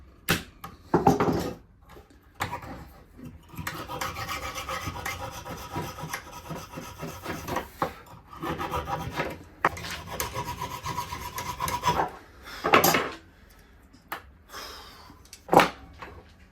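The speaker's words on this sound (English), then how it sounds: "using bits of the hacksaw and the small chisel just to prise it all the way from the stem" Hand tools work a wooden screwdriver handle off its metal stem, a hacksaw and small chisel giving repeated rasping, scraping strokes and a few sharper knocks, close up and fairly quiet, with no talking.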